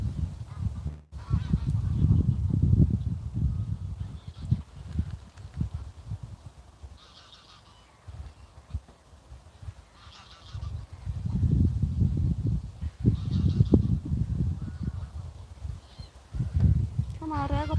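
Geese honk repeatedly in bursts of loud, nasal calls outdoors, rising in clusters with quieter stretches between, while someone talks over them.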